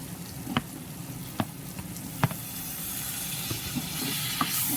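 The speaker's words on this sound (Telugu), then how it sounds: "చికెన్ వేసుకుందాం." Chicken hitting a hot pan with gongura already frying, a steady close sizzle with a few sharp spoon clicks as it is stirred, no voices.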